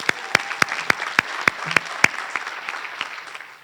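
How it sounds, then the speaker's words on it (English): Audience applause at a World Language Honor Society induction ceremony, heard as a series of sharp, evenly spaced claps from a modest crowd that thin out and fade toward the end. "Big round of applause for everybody."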